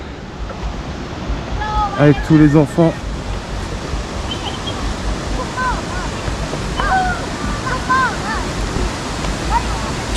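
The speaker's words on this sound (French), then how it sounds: "Petite cascade" A small waterfall in the Bolaven Plateau area of Laos, heard as a steady broadband rush of falling water throughout, with people talking briefly over it and birds calling faintly.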